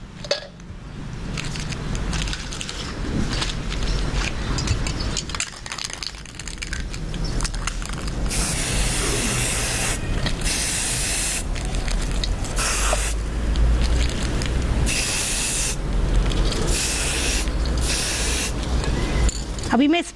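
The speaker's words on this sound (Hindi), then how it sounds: "अब ये स्प्रे पेंट में रेड कलर का ले रही हूँ।" Red spray paint hissing from an aerosol can onto a pipe wrapped to protect the surface beneath, in steady bursts of broadband spray with short pauses, close and fairly loud, while someone talks over it.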